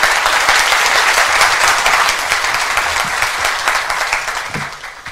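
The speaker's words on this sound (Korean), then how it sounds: "큰 박수로 맞아주시기 부탁드립니다" A seminar audience at a Samsung Electronics medical devices event applauds steadily as a hospital director is welcomed onto the stage, a dense, loud wash of many hands clapping that tapers slightly toward the end.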